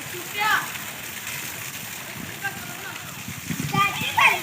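Rainwater splashes outdoors as children bathe, intermittent slaps and sloshes near and far over a soft steady background, with children's voices and chatter mixed in.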